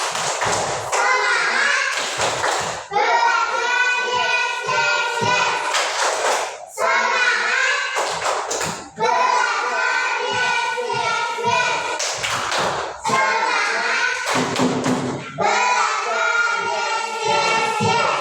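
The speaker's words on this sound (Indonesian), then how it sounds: "tepuk semangat 3 kali" A class of children performs a rhythmic clapping cheer in an Indonesian school lesson, bursts of claps and thuds alternating with sung or chanted phrases in three repeated rounds, loud and close.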